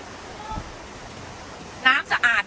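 Water pours steadily over a Khao Yai waterfall, swollen and murky after rain, in a continuous broadband rush; near the end, voices rise above it.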